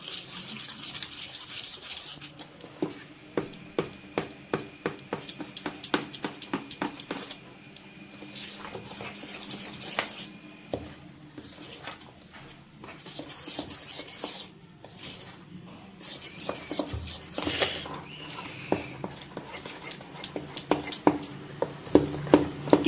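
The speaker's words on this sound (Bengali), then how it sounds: "এবার আমি সবকিছু ভালো করে মিশিয়ে দেবো।" Jaggery cake batter stirred by hand in a bowl, with repeated clinks and scrapes of a spoon against the bowl's side, intermittent and close, with no speech.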